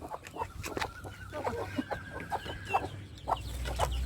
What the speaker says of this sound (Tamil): இவங்க நாட்டுக்கோழி.